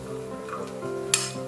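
Coconut pieces sautéing in a hot pan, a steady soft sizzle with occasional stirring scrapes and one sharp utensil clink near the end, close and alone.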